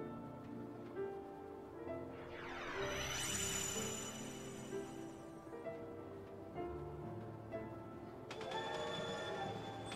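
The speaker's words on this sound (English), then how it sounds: "Magical train in between worlds." A magical train in Kingdom Hearts II passes, rumbling with rhythmic clatter and bright metallic swooshing tones that rise and fade, a stylized game sound effect, no speech.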